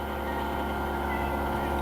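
Heater pump in a UAZ Patriot, a steady low electrical hum with a tonal whine above it, constant and fairly close inside the cabin, with no talk over it.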